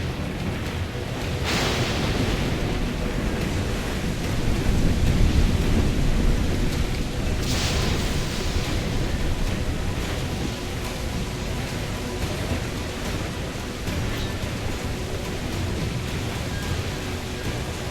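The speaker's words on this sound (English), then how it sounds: "Dark skies and rough seas there!" Stormy sea in the pirate game Black Flag: a steady roar of wind, rain and crashing waves, with two loud thunder cracks rolling out early on, no talk.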